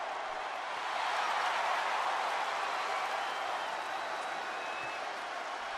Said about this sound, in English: the crowd are loving Naomi here